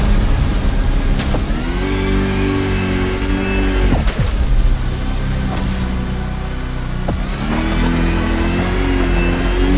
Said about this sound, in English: just look at those 250 kilowatt engines at work.